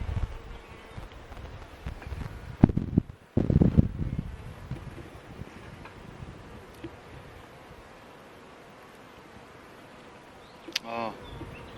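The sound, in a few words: bees at an open hive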